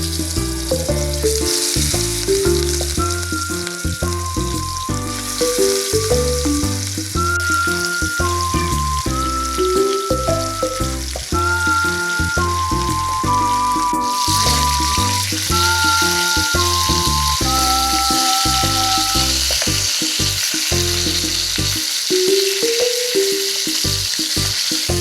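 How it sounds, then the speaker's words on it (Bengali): Rohu fish pieces coated in turmeric fry in oil in a pan with a steady sizzle. Prominent background music plays over the frying throughout. "এবার মাছগুলো ভাজবো"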